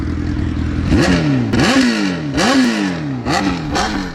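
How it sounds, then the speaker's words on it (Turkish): A loud Honda CBR 1000RR motorcycle engine with a broken exhaust mid-pipe revs repeatedly, rising and falling in several sharp bursts close by, with a rattling exhaust edge. "Arkadaşlar öyle bir gazladık ki"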